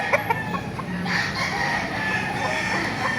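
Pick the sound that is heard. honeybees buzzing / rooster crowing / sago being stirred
rooster crowing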